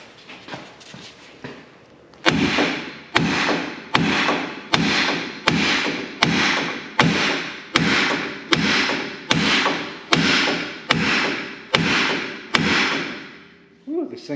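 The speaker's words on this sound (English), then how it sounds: "You want to hit right here, or even over here, okay, as close as you can to that seal between that ball joint and knuckle." A hammer strikes the steering knuckle near the ball joint seal on a Dodge Ram truck with a seized joint, about thirteen sharp, evenly spaced metallic blows ringing out close and loud after a short pause.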